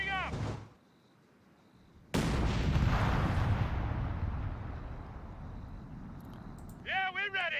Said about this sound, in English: All guns opening up.